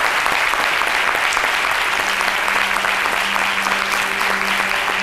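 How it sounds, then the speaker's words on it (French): A French TV talk-show studio audience applauds guests arriving on set, a steady, dense wash of clapping that holds evenly throughout at moderate loudness, with no voices over it. "Je vais vous demander de vous lever tout de même pour les accueillir, les applaudir"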